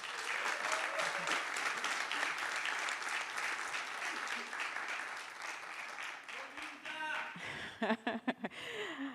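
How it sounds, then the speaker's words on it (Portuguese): A live audience applauds steadily for a woman named Olinda as she is introduced at a panel session on body and memory, the clapping dense and sustained before it thins out, with a few voices and short laughs near the end. "Palmas para Olinda."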